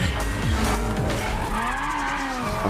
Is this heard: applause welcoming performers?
no